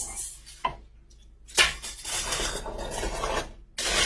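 Aluminum foil torn and wrapped around a garlic bulb for roasting: crinkly rasping bursts with a sharp tearing rip, followed by sustained crumpling and scrunching as the sheet is folded, heard close and without talk.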